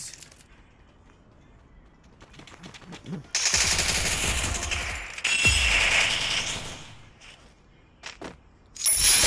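Automatic gunfire from the battle-royale video game Free Fire, with bursts of rapid shots that swell loud mid-clip and return near the end, plus faint quieter stretches between; a voice is briefly heard.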